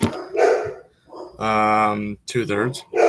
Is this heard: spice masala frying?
no